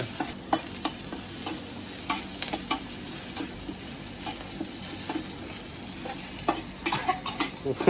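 Pork and holy basil stir-fried in a pan for a Thai krapow lunch, a steady sizzle broken by frequent clanks and scrapes of the spatula stirring, close and fairly loud with no talking.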